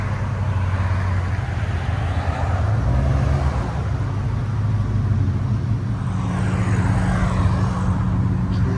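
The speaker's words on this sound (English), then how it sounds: "Traffic." Steady road traffic with engine rumble from passing vehicles beside a 2000-2005 Ford Excursion 5.4L V8, a continuous low drone that stays even and fairly loud throughout, with no talking.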